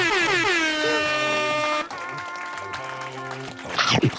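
In the My Singing Monsters video game, the Carillong monster plays its instrument, a bright, sustained horn-like tone. The tone shifts pitch, drops to a softer second phrase, then ends in a short burst of noise.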